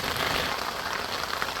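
Steady rain pours onto a bivvy fishing shelter at a lake, a dense, continuous patter of drops drumming on the fabric with no pauses and no voices.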